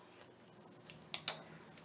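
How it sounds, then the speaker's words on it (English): Scissors snip across craft material for a Dollar Tree DIY gnome: a faint cut early on, then a quick pair of crisp, close snips near the end against a quiet background. "take your scissors and just cut"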